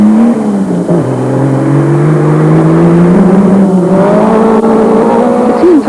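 Toyota off-road rally vehicles, a Hilux and Land Cruiser among them, race in a 1996 off-road challenge, with engines droning loud and steady and revving in rising and falling pitch as they press on.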